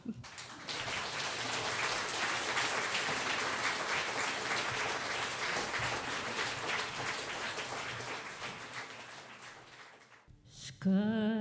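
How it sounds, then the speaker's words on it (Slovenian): Concert audience applauding loudly, a dense, sustained wash of many hands clapping that tapers toward the end before music or a voice briefly cuts in. "Mi vsi imamo pa pravico, da glasno zaploskamo, tako da se bolj ne da."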